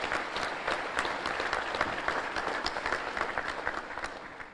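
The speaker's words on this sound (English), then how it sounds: "Please give them all a round of applause." Luncheon crowd at a chamber of commerce event giving sustained applause, a steady bed of many hands clapping heard from a slight distance without letup.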